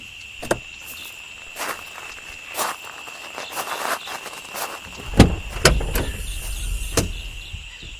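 Car doors open and shut with sharp knocks as people climb out, followed by a few scattered footsteps beside the car, set against a steady whine of insects or crickets.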